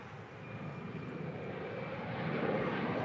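An airliner taxis at LAX with a broad, steady roar of engine noise that grows slightly louder over a few seconds, heard alone without talking.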